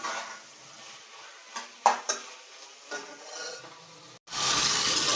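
Pav bhaji vegetables being sautéed in a pan, with a few clinking spatula strokes against the metal over a faint sizzle, then a sudden louder, steady frying hiss at the end.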